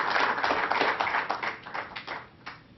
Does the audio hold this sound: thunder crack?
no